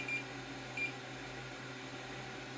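A multimeter doing a continuity test on an Acorn A3010 motherboard gives two brief, faint beeps over a low electrical hum.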